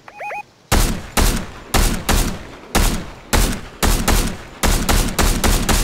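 Sniper rifle shots in Fortnite, loud and close, nine sharp reports spaced roughly half a second to a second apart, following a brief tonal in-game chirp at the start, with no voices.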